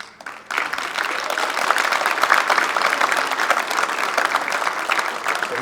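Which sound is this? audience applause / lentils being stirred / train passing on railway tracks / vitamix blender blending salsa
audience applause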